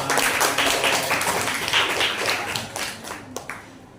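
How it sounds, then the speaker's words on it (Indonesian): Students in an Indonesian classroom clap their hands together for a classmate, a brief burst of mixed claps with some sharper taps that fades over a few seconds. "Kasih tepuk tangan."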